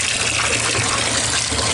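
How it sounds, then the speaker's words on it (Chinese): Water gushes steadily from a household kitchen faucet opened wider, a close, continuous rushing stream with no voices. "那我们再开大一点来看"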